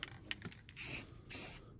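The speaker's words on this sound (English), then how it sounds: "start spraying my rust stop on it" Rust stop aerosol sprayed onto rusty metal on a 1967 pickup in cold 41-degree weather, two close, loud hissing bursts of about half a second each, with faint clicks and handling noise before them.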